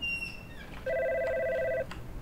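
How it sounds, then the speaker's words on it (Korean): An office telephone rings in a video game, a short electronic double-tone burst standing clear over a quiet room, with no voices over it. "전화기가 울리네?"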